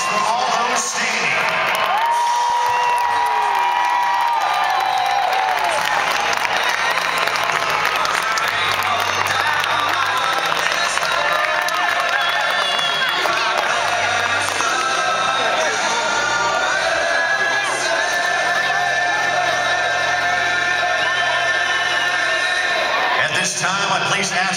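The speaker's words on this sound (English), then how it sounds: "A big round of applause for all those standing." A large crowd applauds and cheers loudly and steadily throughout, with whoops and shouts rising over sustained clapping for people standing at an event.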